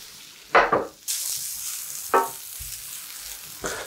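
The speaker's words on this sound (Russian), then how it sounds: "Цукини долго жарить не надо" Oil sizzles and crackles steadily as zucchini fries in a pan, with a few louder bursts of hissing and clatter as the pieces are stirred.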